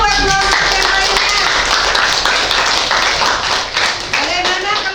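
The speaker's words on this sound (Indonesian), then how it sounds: "tepuk tangan dulu buat kelompok yang lainnya" A classroom group bursts into steady applause, many hands clapping together for several seconds while voices chatter over it.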